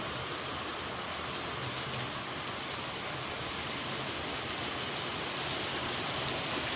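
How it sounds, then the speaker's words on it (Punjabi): Heavy night-time rain pours down in a steady, dense hiss that stays loud and unbroken from start to finish, with no voices over it. "ਬਹੁਤ ਮੀਂਹ ਪੈ ਰਿਹਾ ਜੀ ਰਾਤ ਦਾ"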